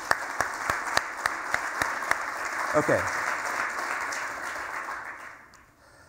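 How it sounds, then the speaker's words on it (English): Keynote audience at a GWT developer conference applauding, sparse distinct claps early then a fuller round under a brief spoken word, fading out near the end. "let's give Vaadin a round of applause"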